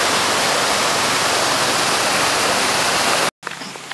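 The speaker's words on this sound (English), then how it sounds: "Crossing the waterfall." A waterfall roars as a broad, loud, steady wash of water during a bike tour loop on Biliran Island. The rush cuts out suddenly near the end, and fainter background sound follows.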